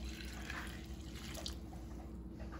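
Warm water pours softly and steadily into Moroccan baghrir batter, quiet and close, with faint splashing and no talking.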